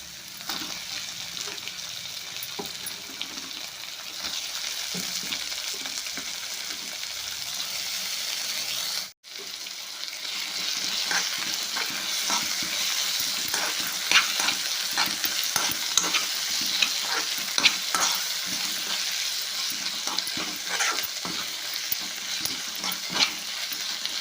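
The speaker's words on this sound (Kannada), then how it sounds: "ಇದಕ್ಕೆ ಟೊಮೆಟೊ ಹಾಕ್ತೀನಿ ನೋಡಿರಿ" Chopped tomatoes fry in an oiled pan for a North Karnataka style palya, a steady sizzle broken by repeated scraping strokes of a spoon, with one brief drop to near silence before the frying resumes slightly louder.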